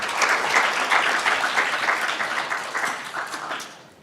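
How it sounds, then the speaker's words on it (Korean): Audience applause at a reunification conference in Korea, welcoming a panel to the stage: steady dense clapping from a large crowd, fairly loud and alone, fading away in the last half second. "세 번째 세션의 패널 분들께 박수로 맞아주시기 바랍니다."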